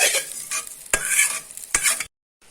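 Cumin seeds fry in a pan with a close, crackling sizzle broken by a few sharp stirring scrapes, then it cuts off abruptly into a short silence before resuming.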